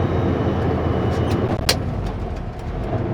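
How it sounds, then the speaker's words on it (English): A truck descending a slippery mine hill with engine brakes fully on produces a steady low rumbling drone, fairly loud and continuous, with a brief sharper sound partway through. "And of course, engine brakes are on full."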